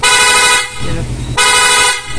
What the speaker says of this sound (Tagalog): Tapos meron siyang PIA horn, no?